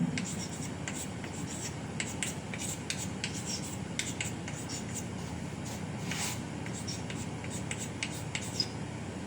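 Hand writing during a class ten mathematics lesson on fractions and proportionality, a steady soft scratching and rubbing of pen or chalk heard close and continuous, with faint room noise and no talking.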